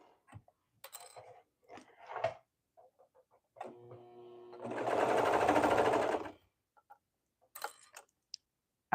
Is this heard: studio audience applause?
no